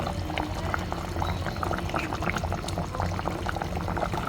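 A pot of hilsa fish curry with taro stolons simmers on the stove, giving a steady, close bubbling and crackling of boiling liquid with no voices.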